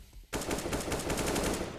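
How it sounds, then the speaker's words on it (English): Automatic shotgun fire in a competitive video game match, a loud burst of rapid, evenly spaced blasts starting abruptly after a brief quiet moment and continuing steadily. "And Prod with the auto shotgun takes down Forge lurking above drop"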